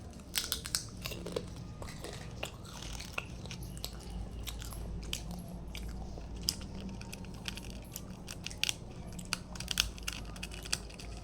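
A child bites and chews food, giving close, irregular crunching and munching sounds over steady low background hum, with no talking.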